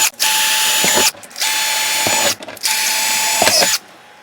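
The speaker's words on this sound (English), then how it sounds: "I think I'm just going to start all these with a drill." A power drill whirs in three short bursts while starting holes in cardboard, separated by brief pauses and small clicks, loud and near.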